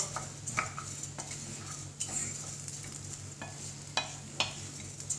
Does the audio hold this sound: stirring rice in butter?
yes